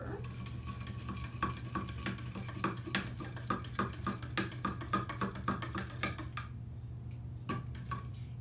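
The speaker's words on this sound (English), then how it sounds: "I'm going to stir." A spoon stirring sugar in a container: quick, regular small clicks and scrapes in a steady rhythm, fairly quiet, over a low constant hum, ending abruptly.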